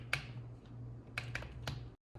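Several soft clicking keystrokes on an Apple iPad Smart Keyboard, scattered irregularly over a low steady hum, fairly close, with no talking.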